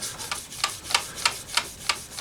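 Fine-grit pad sanding a polyester finish on a 1976 Stratocaster guitar, a soft rhythmic back-and-forth rubbing with about seven even strokes in quick succession, close and quiet, without talking.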